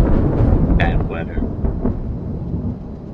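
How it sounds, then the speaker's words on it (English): Thunder rumbles across a forest in a broad, rolling wash with a few sharp crackles near the start, fading slowly toward the end. "He freezes as a crackle of lightning splits the sky, and we begin to hear what sounds like a reverberating quake across the entire forest."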